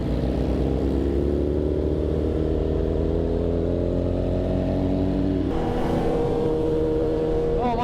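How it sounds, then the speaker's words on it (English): Superbike motorcycle engine revving as a group of superbikes rolls out, a loud continuous roar with rising pitch sweeps, then a sharper shift and fresh climb toward the end, close by. "Oh, my bike sounds so good, bro."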